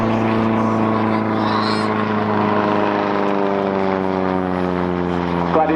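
A Scottish Aviation Bulldog propeller aircraft with a 180-horsepower air-cooled, horizontally opposed four-cylinder Lycoming engine drones steadily and loudly nearby at an airshow, with a constant, even tone throughout.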